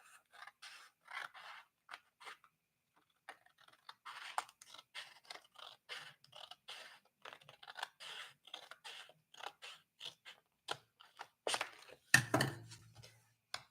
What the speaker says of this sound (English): I am gonna cut this Dutch door so that it reveals my headers I stuck in.